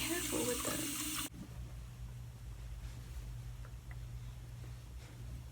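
Tap water running into a sink during face washing, a loud bright gushing stream that cuts off abruptly after about a second, leaving quiet room tone.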